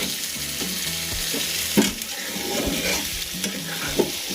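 Chicken chaap masala sizzles steadily in a pan while a spoon stirs and scrapes through it, with occasional sharper knocks against the pan, close and continuous with no talking.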